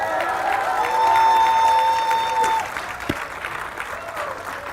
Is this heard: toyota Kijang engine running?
no